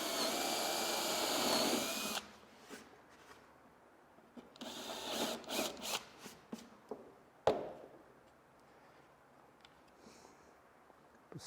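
A power driver sinks screws into carvel boat planking along the bed log at the garboard, beginning with a loud sustained whir and followed by short intermittent bursts and a sharp knock.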